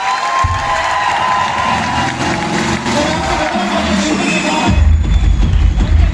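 A large motivational business event crowd cheers and applauds loudly, with shouts and clapping over a low rumbling background that swells louder near the end.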